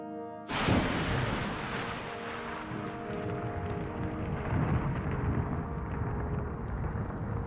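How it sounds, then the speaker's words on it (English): Thunder from a lightning storm building over a Florida launch pad: a sudden loud crack opens into a long, heavy rolling rumble that lingers and slowly fades, with no voices. "As storms build over the Florida Panhandle, lightning strikes the launch pad."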